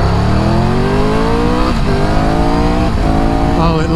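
A 2022 Triumph Tiger 1200 GT Pro motorcycle accelerates at full throttle in sport mode, its engine note climbing steadily and loudly with brief dips at quick gear shifts.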